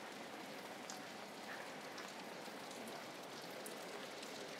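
Heavy rain pours steadily on a street in Geylang, Singapore, a dense unbroken hiss of drops striking the ground and nearby surfaces, with no voices.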